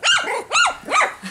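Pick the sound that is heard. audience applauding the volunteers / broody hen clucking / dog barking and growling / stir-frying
dog barking and growling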